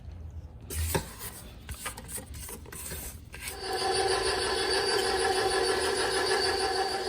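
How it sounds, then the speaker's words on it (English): Coconut loaf cake batter scraped around a mixing bowl with a spatula, a steady rasping rub that turns into a dense, continuous scraping texture, close and fairly quiet, with no talking. "Okay, so I'm gonna scrape it again."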